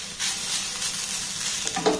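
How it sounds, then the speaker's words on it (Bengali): A steady, close sizzle of food frying in a covered pan for a quick oil-free snack, with a faint stir near the end and no talking. "তারপর ঢাকা দিয়ে দিয়ে এটাকে খুব সুন্দর করে আমি ভেজে নেব।"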